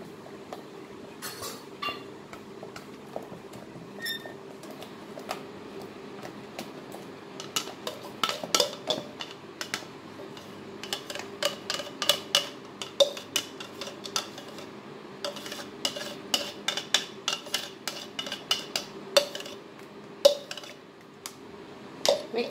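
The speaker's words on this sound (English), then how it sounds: "So we'll put mango pulp. And mix it nicely." Mango pulp being stirred by hand in a bowl for homemade ice cream, with close, repeated clinks and scrapes of a utensil against the dish that grow busier and louder partway through, over a steady low background hum.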